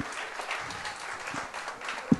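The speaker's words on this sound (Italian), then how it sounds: "Vi facciamo un applauso" An audience claps for an Italian singer at a public talk, moderate applause that swells and fades unevenly, with a sharp knock or thump near the end.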